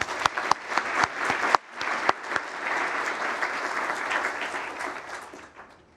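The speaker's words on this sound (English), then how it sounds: "So another clap." A seated audience at the National Press Club of Australia claps for an award recipient, starting with scattered sharp claps that quickly merge into steady, even applause lasting several seconds.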